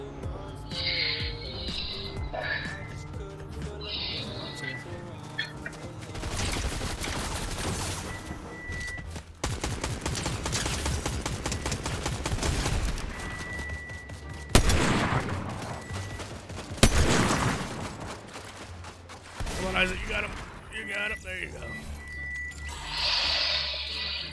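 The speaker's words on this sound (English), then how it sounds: "Do I go towards the shooting or do you want to chill?" Rapid bursts of gunfire in a Fortnite match, with sustained volleys and sharp louder shots loud and close throughout, mixed with game sounds and brief voices.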